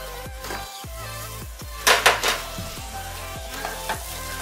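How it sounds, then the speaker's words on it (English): Chicken basquaise simmers in a covered pan, a soft steady sizzle and bubbling with a few light clinks of the lid or utensils. "So I'm going to turn down the heat a little bit and cover it and let it simmer for about 5 minutes."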